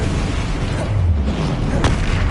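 A Confringo blasting spell detonates in Hogwarts Legacy, a loud, dense boom with a low rumble and a sharp crack near the end, filling the whole moment.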